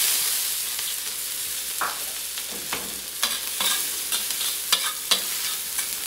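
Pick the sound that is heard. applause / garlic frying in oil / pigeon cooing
garlic frying in oil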